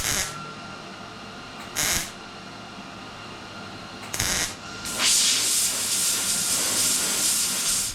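MIG welding on rusty sheet metal of a 280Z fuel filler area, backed by flattened copper pipe, gives short hissing, crackling bursts, then a longer sustained sizzling weld, close and loud.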